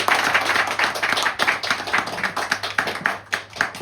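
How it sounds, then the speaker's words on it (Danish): An audience at a talk bursts into clapping, a fairly close, lively patter of many hands with individual claps standing out, continuing steadily for a few seconds without voices. "Så klapper vi"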